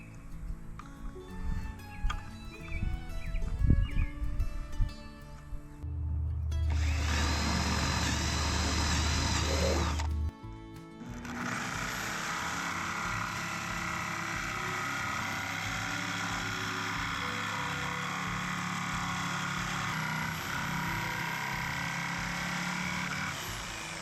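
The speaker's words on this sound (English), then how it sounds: "then I'll cut this out with a jigsaw" Assorted clattering and a brief motor burst give way to a jigsaw cutting wood for a camp kitchen chuck box, buzzing steadily and harshly for over ten seconds.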